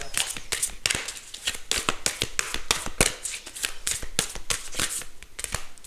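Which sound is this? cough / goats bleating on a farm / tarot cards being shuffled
tarot cards being shuffled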